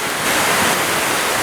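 Broad, steady rushing roar of Shaki waterfall in Armenia, loud and continuous with no voices over it.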